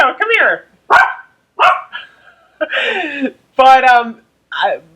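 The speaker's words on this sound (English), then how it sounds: "there's Coco barking at the rain" A small dog barks at the rain repeatedly in sharp, yappy bursts, close by, with brief pauses between them and a few whiny, drawn-out yelps mixed in.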